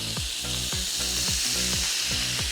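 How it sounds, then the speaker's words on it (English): Steaks with olive oil sizzle steadily on a brand-new Elite Gourmet grill, a constant loud frying hiss with repeated crackling pops, close up and with no talking. "you can hear that sizzle putting them on"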